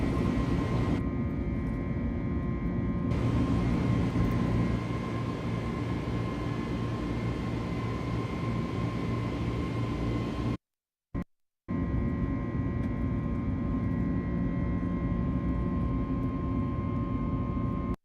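An airliner's engines whine and drone steadily, heard from inside the aircraft on a flight out of Innsbruck; the loud continuous hum cuts out briefly twice near the middle before resuming.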